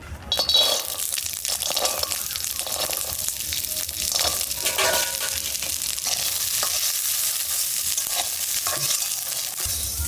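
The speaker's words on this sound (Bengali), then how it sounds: "এইবার তেলের মধ্যে রসুন আর কাঁচা লঙ্কা দিয়ে দেবো" Garlic and green chilies fry in hot oil, a steady loud sizzle throughout with stirring scrapes and occasional clinks of a utensil against the pan.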